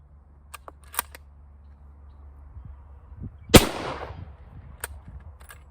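One sharp, loud rifle shot fires surplus 1953 Yugoslavian 8mm ammunition. It cracks outdoors and then trails off into a short echo, with faint ticks and clicks before and after it.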